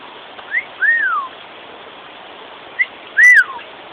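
Pet bird whistling in two short rising-and-falling whistled phrases, each with a quick lead-in note, clear and fairly close over a low background hiss.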